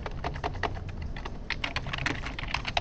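Code being typed on a computer keyboard, a close run of quick, uneven key clicks and taps.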